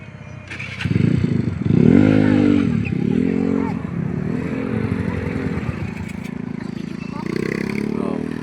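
A motorcycle rides past at the scene of a motorcycle accident, its engine rising and revving as it approaches, then fading into a steady drone, with people talking throughout.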